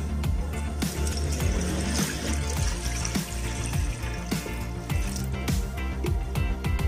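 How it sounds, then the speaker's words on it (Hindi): Water pours steadily into a deep cooking pot (degchi) as the first step of a chicken soup (yakhni) stock, a continuous loud splashing flow with faint clinks, no talk over it. "यखनी बनाने के लिए सबसे पहले मैंने देचकी में डाल देना है पानी को।"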